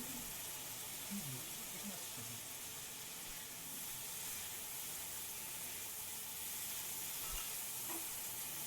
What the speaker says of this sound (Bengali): আলু দিয়ে আর অল্প অল্প জল দিয়ে আমি আরও ভালো করে কষাতে থাকবো